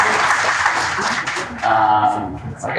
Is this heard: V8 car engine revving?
no